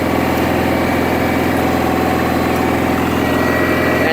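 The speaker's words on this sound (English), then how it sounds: "And the engine runs great" A Cub Cadet 1811 lawn tractor engine idles steadily and loudly up close, with a low rhythmic throbbing chug that stays even throughout.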